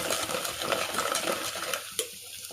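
Fish curry paste fries in a pan while being stirred, giving a steady close scraping and soft sizzling with light clinks of the utensil against the pan.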